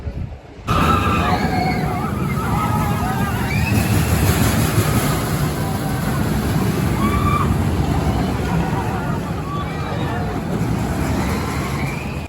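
A Vekoma boomerang roller coaster at La Ronde in Montréal, a constant loud rumble of wheels on track with wind buffeting and riders' screams and chatter throughout.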